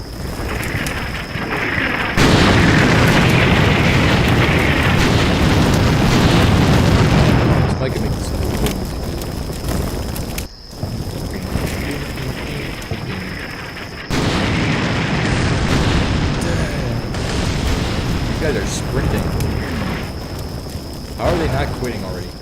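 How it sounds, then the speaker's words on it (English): Artillery fire in the Combat Mission wargame: long stretches of heavy, rolling booms and explosions, loud and continuous with a brief break in the middle, alongside a steady high tone, with someone talking over them at times. "they're running into artillery"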